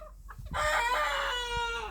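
An Australorp rooster crows once, loud and close, a long drawn-out call rising from a quieter yard with faint clucks before it, among a group of roosters in a backyard poultry run.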